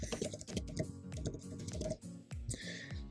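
Fast, busy keystrokes on a computer keyboard enter text into a search bar, with dense clicking and clattering running throughout, close and fairly prominent.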